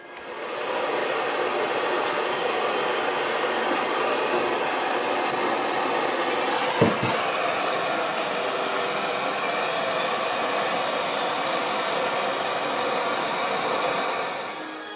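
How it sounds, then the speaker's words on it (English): A blowtorch heats the tang of a homemade hunting knife, giving a steady, close, loud roaring hiss that holds unbroken for the whole stretch, with one faint knock partway through and no talking. "heat the tang up with my blowtorch"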